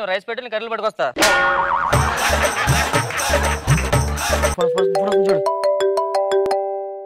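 A phone ringtone plays loudly: a bouncy melodic tune that gives way to a bright repeating chime pattern, filling the room with no talk over it.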